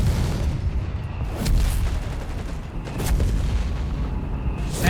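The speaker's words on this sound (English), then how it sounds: "German troops, while moving in and holding the ground, are also getting hit by American mortar fire." American mortar rounds in the strategy game Company of Heroes 3 land on German troops with deep, rumbling booms. The blasts roll over one another under a heavy battle din, with a few sharper cracks.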